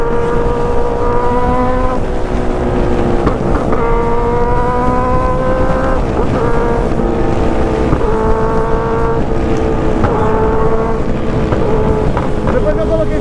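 A group of Honda Hornet motorcycles rides together, a continuous droning engine roar with shifting revs and steady road and wind noise running throughout, with a rider talking over it.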